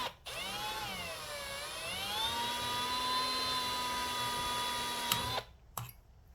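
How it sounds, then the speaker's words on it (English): A power drill bores out a rivet head on a Porsche Boxster 981/718 convertible top mechanism, a steady loud whine lasting about five seconds whose pitch dips and rises as pressure changes, then cuts off sharply. "we're just going to drill far enough where the head will pop off the rivet here."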